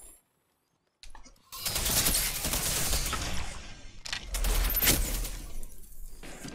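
Heavy weapon firing in the shooter game Destiny 2: after a brief near-silent gap, loud sustained blasts of shattering gunfire roar on for several seconds, dipping once before a second heavy burst.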